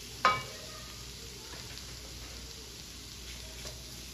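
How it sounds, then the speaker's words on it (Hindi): Shredded chicken mixture for a Turkish chicken soup sizzling steadily in a pan, a soft continuous frying hiss with a single sharp utensil clink near the start and faint stirring scrapes. "इस सारी चीज़ों को अच्छे तरीके से मिक्स करते हुए पकाते हैं 1 से 2 मिनट के लिए"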